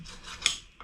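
Bondo filler on the face of a VEVOR 66 lb London pattern steel anvil being scraped, a short raspy rub with one sharper scratch midway and a faint tick at the end.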